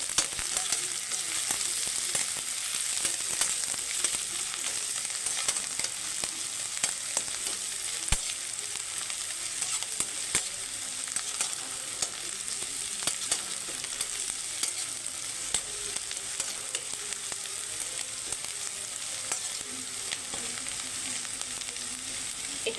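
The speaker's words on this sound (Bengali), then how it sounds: "এদিকে আমার পেঁয়াজ ভাজা হচ্ছে" Onions sizzle and crackle steadily in a hot pan for bread pakora, a continuous bright frying hiss with small pops throughout, close and fairly quiet, with no talking.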